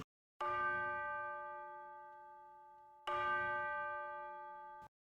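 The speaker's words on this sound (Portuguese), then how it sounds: "Eu depois colo aqui uns sinos, faz assim, pim, e depois pim, voltamos." Two struck bell chimes ring out as a break marker, each a bright clang with a long, slowly fading resonant tail, the second arriving about three seconds after the first, loud and alone with no talk.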